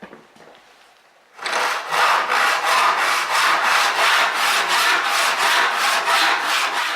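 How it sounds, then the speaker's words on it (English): A Western backless hand saw cuts through a wooden board in steady, rhythmic back-and-forth strokes, loud and close, about two strokes per second. "As I'm sawing, I'm able to sight down that line I've got on the back of the board with my saw plate"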